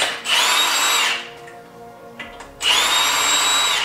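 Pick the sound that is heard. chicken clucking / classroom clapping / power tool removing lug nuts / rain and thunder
power tool removing lug nuts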